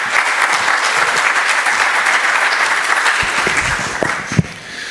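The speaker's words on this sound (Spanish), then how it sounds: "Les brindamos fuertes aplausos." An audience at an international arbitration congress bursts into sustained, dense applause, loud and steady for several seconds before tapering slightly at the end, with no voices over it.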